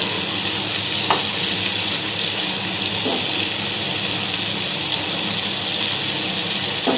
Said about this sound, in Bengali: তাহলে আমাদের চিংড়ি মাছ ভাজা হয়ে গেছে